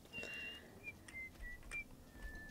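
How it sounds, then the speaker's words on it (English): A character in Fallout 3 whistles a tune faintly, in short thin phrases separated by pauses, set against a quiet background hum. "notice how she's whistling the tune"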